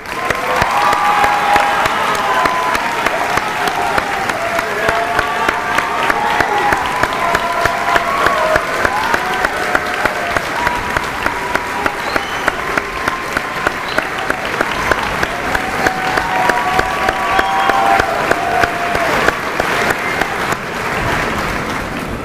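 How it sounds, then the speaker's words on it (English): Sustained applause from a sizeable graduation ceremony audience, dense steady clapping with a few faint cheers, continuing loudly for over twenty seconds before tapering slightly. "our advisor, Mr. Arnold, does need a thanks and a round of applause for his part in this as well"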